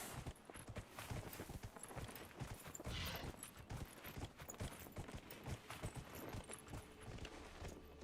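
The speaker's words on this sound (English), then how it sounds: "Get off the horse, Evander." Rapid hoof clip-clops from a galloping horse in the game Dragon Age: Inquisition, steady and fairly loud, with a busy rustling background.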